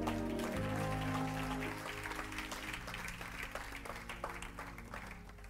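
A church congregation applauding together, a steady wash of many hands clapping that carries on throughout, slightly fading after the first couple of seconds, with a sustained organ or keyboard chord underneath.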